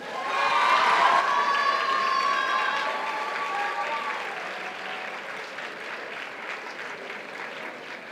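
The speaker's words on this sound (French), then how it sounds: "et on les applaudit bien fort" Loud crowd applause with some cheering for a cosplay group at a Japan Impact convention contest, strongest at first and gradually easing off, with voices in the crowd mixed in.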